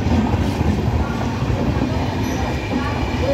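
A train sounds steadily at Bidhannagar station just after passengers step off, a close, continuous rumble with rolling rail noise and a faint metallic ring through the short stretch.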